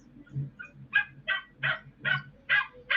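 Anxious dog inside a parked car in a driveway, crying in a steady series of about seven rising, wavering yelps roughly every half second, close by, no voices over it.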